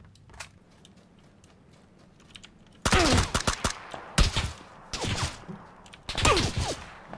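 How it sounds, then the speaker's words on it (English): Bursts of automatic gunfire in the battle-royale video game PUBG (PlayerUnknown's Battlegrounds), near and loud, arriving in four clustered volleys after a quiet opening. "Oh, where am I being shot from?"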